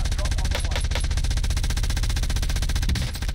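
Rapid automatic gunfire in Call of Duty Warzone, a fast, steady stream of closely spaced shots throughout, loud and close, with no talking over it.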